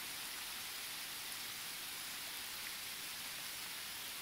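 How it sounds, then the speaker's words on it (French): Heavy rain falling in woodland during a downpour makes a steady, even hiss with no gusts, a continuous faint wash of drops without pauses or voices. "Par contre cette pluie là c'est magnifique"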